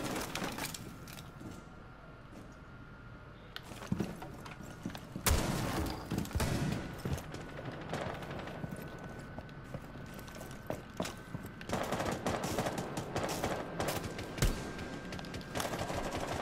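Video game gunfire, scattered single shots and short volleys of varying loudness that come and go over a steady ambient bed, with a denser run of bursts toward the end.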